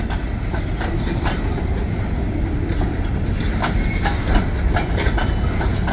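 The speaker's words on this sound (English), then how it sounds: "they added a few more cars to this train." A long freight train of nearly 80 cars, pulled by two vintage locomotives, rolls past close by with a loud continuous roar and rhythmic clickety-clack of wheels over rail joints, with no talk.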